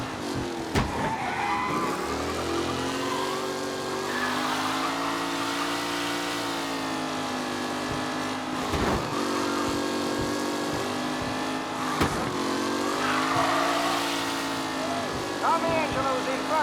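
Race cars in Mafia Definitive Edition roar around the track in a steady engine drone, with tires squealing and skidding now and then, under continuous voices.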